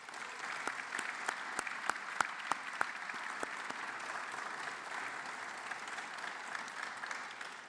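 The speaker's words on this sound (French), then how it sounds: "je vous demande de joindre vos applaudissements pour saluer Denis Zardudaki." An audience applauds at the opening of Les Etats de la France, welcoming a speaker to the stage, with steady, dense clapping throughout and a few sharper, louder claps standing out early on.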